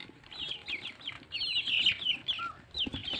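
Young chicks, reportedly suffering from a cold, chirp and peep while drinking water on a farm. The high chirps come steadily and close by, with many overlapping calls in a busy, continuous chatter.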